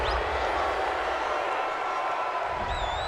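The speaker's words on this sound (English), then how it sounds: "This home crowd, they're happy with that call" Home crowd noise after a penalty flag in a Madden NFL 20 Saints versus Panthers game, a steady, loud stadium roar of cheering, with a couple of faint whistle-like tones near the end.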